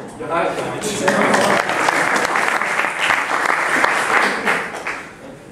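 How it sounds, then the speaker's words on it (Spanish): Audience applause at a technical talk introducing the Ceylon programming language, a dense, steady clapping that fills the room for several seconds before tapering off, with voices mixed in. "Aplausos."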